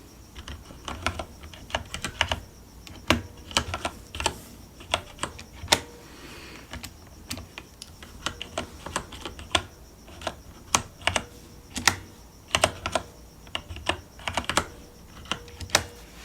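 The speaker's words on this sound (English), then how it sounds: "I'll go ahead and type this one in." Slow, soft keystrokes on a computer keyboard in a quiet librarian setting, isolated clicks arriving irregularly a second or so apart, close and crisp against a faint background hiss.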